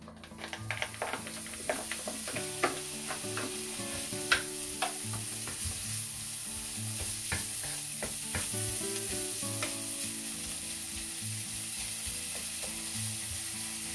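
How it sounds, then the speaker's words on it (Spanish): Bacon frying in a little oil in a pan: a steady close sizzle with frequent crackles and pops and clicky scraping of a utensil, continuous and moderately loud with no voices. "Prendemos el fuego, ponemos un poquito de aceite. Vamos a echar el bacon."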